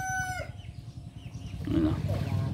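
Chickens on a fishpond farm, a rooster's crow trailing off at the start followed by low clucking and fowl calls, faint and somewhat distant, with someone speaking partly over them.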